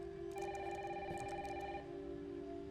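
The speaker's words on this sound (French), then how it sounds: "Maman, téléphone." A telephone rings in the Resident Evil Requiem video game, a repeated electronic bell tone over a steady background hum, fairly faint and with no talk over it.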